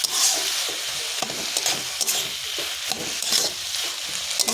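Bottle gourd simmering in milk with sugar is stirred in the pan, a steady close sizzle broken by repeated scraping strokes of the spoon, with no voices.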